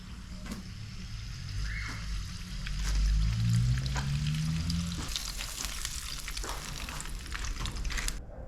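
Pork sausages sizzle steadily in a pan with a constant frying crackle, with occasional stirring and brief scraping sounds close by and no speech.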